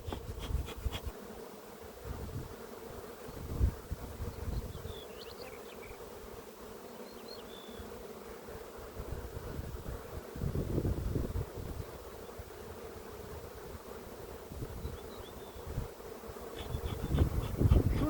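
Steady, dense buzzing of many honeybees close by, continuous throughout with some wind rumble and handling noises, no talking.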